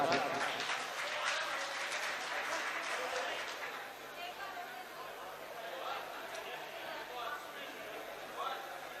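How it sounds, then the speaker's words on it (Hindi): Audience at a Bareilly mushaira applauding a guest poet from Rampur: broad clapping and murmuring that is fullest at first and then thins and fades, with a few claps lingering, heard at a moderate distance. "भरपूर तालियों से अपने मेहमान शायर का इस्तकबाल कीजिए।"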